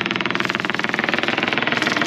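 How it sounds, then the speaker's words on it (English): A sailboat's engine runs loud and close, a steady fast pulsing throb with a rough mechanical rattle, its beat unchanging throughout. "now we've got the engine running"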